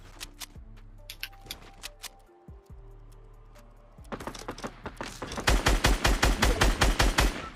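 Gunshots in Fortnite: scattered single shots at first, then a loud rapid burst of automatic fire with evenly spaced, punchy reports over the final seconds.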